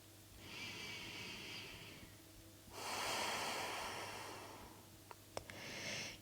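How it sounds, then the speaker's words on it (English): Slow, deep breaths through the nose during a calming evening yoga session, close and soft: long airy inhales and exhales alternate, with a faint click or two near the end. "filling up the belly with air on every inhale, and releasing all of that air"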